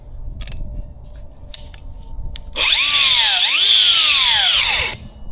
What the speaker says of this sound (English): In fact, I got to cut some rebar right now.